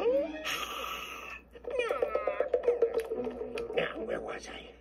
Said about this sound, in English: Uh-oh, that cat again.